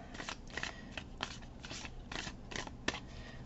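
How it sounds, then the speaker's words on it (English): Cards of an oracle deck are shuffled hand over hand the long way in a quick series of soft riffling bursts, about eight in a row, close up and fairly quiet. "I'm really bad at long ways hand over hand shuffling"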